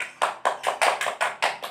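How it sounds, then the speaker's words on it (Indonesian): Schoolchildren in an Indonesian classroom clap in a crisp, regular rhythm, about seven sharp group claps evenly spaced and close by, with no talking over them. "Tepuk tangan."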